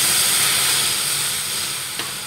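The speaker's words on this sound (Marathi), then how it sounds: "आता या कढईमध्ये आपल्याला अर्धा कप पाणी टाकून घ्यायचं आहे" Half a cup of water hits a hot kadai that has just roasted semolina, giving a loud, steady broadband sizzle and hiss that carries on unbroken, with a faint click near the end and no voices.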